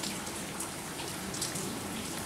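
Rainwater drips after a storm, a faint, continuous patter of scattered drops falling on water close by, with no voices.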